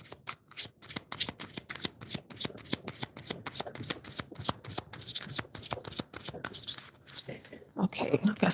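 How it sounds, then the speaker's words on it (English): Rapid, repeated tarot card shuffling up close, a long run of crisp riffling bursts with brief pauses, a voice murmuring faintly at the end. "let me just shuffle away"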